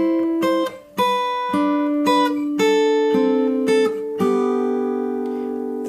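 Slack key guitar plays a descending turnaround melody picked with two right-hand fingers, a series of clear plucked notes stepping downward over about six seconds, each ringing into the next, with no talking.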